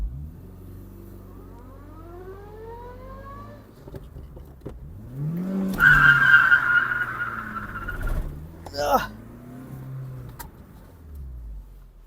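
A VW Lupo skids with one wheel spinning, a rising engine rev and loud tyre squeal swelling midway, then a short sharp burst and a steadier drone; no talk during it.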